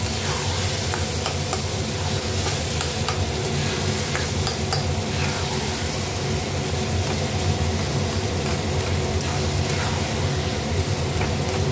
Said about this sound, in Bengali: এবার কড়াই তেলটা আমি ভালো করে কষাবো।